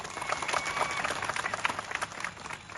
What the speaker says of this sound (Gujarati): આપણે સૌ એમના માટે એકવાર જોરદાર તાળીઓ ફાડી લઈએ